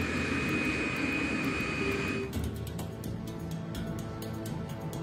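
Concorde's four jet engines while taxiing to the runway: a loud, continuous roar with a steady whine that cuts off abruptly partway through, leaving a rumbling, fluttering drone with rhythmic ticking pulses.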